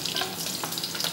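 Tomatoes, onions and ginger sauté in a pan, a steady close sizzle and crackle with occasional stirring scrapes, no voices.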